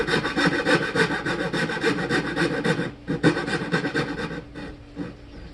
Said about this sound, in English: I keep the saw at an angle, and I actually increase it a little bit.